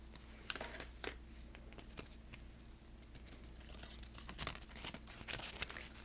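Paper notes torn up by hand close to the microphone, a series of soft, crisp rips and crinkles spread irregularly through a quiet room.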